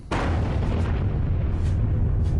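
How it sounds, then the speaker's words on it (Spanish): A huge Dambusters bouncing-bomb explosion erupts after a brief lead-in, a loud sustained roaring boom that fills the whole clip without fading. "De repente se oyó una tremenda explosión."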